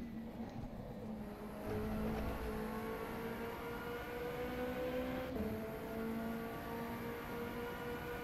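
Engine of the ACR Zakspeed LMP2 race car in the rFactor 2 simulator, a steady loud tonal drone with harmonic whine held throughout, rising slightly in pitch, with no talk.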